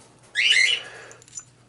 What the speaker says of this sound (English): Sorry about the birds.